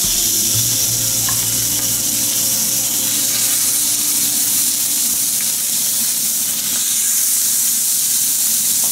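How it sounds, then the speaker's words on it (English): Bourbon chicken kebab sizzling on a griddle, a loud, steady, dense hiss of frying that carries on without a break from start to finish. "then we'll place the kebab on the griddle."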